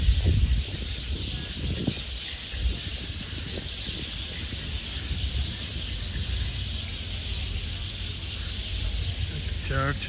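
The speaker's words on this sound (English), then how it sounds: "Many, many birds here in this tree." Many birds call from a tree along a town street in Ponta Delgada in the Azores, a dense steady chatter of chirps under broad traffic and city hiss, with faint voices mixed in.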